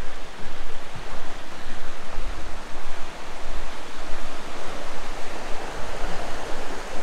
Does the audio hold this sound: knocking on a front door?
no